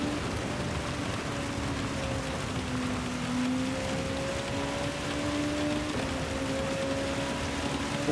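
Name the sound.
rain in the Gran Turismo 7 video game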